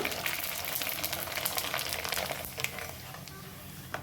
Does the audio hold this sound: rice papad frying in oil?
yes